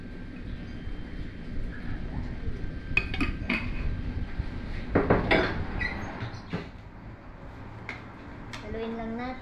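A utensil scrapes and knocks around a cooking pot as dry mint is stirred into the food. The clatter is soft, with a few sharper clanks midway, under steady background noise and some talking.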